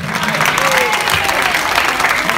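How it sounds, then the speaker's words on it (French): Crowd at an outdoor traditional music show in Saint-Joseph applauding in a loud, dense wash of clapping, with voices and cheering mixed through it. "On applaudit une fois de plus, c'est la ville de Saint-Joseph"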